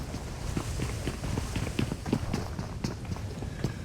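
Rapid video-game footsteps in a store in a PUBG-style battle royale, a quick, even run of soft thuds at moderate distance, steady for several seconds with faint background game noise.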